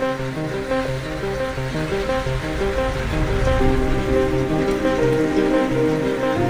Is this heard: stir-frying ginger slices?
no